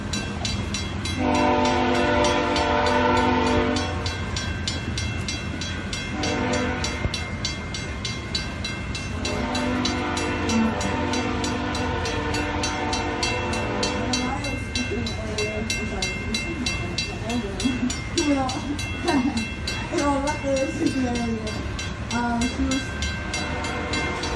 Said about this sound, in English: you gotta wait for the train